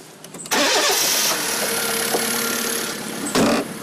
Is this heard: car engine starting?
yes